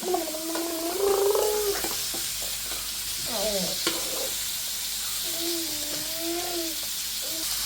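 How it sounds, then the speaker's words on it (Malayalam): Sliced onions fry and soften in hot oil in a pan with a steady, close sizzle, while the spoon stirs them at intervals. A higher voice-like tone sounds faintly over the frying now and then. "ഇതുപോലെ വാടി നല്ല നല്ലോണം എണ്ണയ്ക്കകത്ത് കിടന്നിട്ട് നല്ല വഴണ്ട് വരണം"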